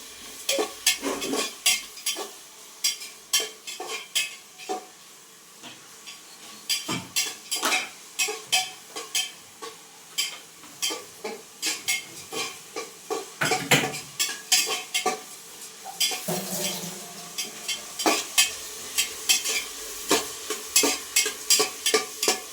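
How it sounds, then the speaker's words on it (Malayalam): Onions with tomato and ginger being stirred and fried in a pan for a biryani: a spoon clatters and scrapes in quick irregular bursts against the pan over a steady sizzle, close and alone without talk. "ഇതൊന്ന് ചെറുതായിട്ട് വാടി വരുമ്പോഴത്തേക്ക് നമുക്കിത് തക്കാളി ഇഞ്ചിയൊക്കെ ഇട്ട് മിക്സ് ചെയ്യണം."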